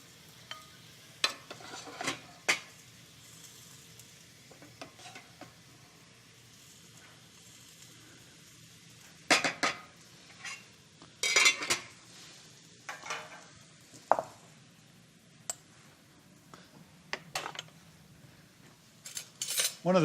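Stir fry and rice are served into a bowl in a quiet kitchen, with scattered metal utensil clinks and scrapes against the dish coming in short bursts between pauses.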